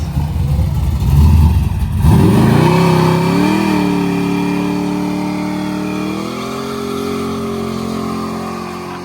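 A 1980 Chevy Malibu street cruiser with a big-block Chevy 540 and a new Holley carburetor revs loudly up close, its deep rumble climbing and holding at high pitch before easing off, with no talking.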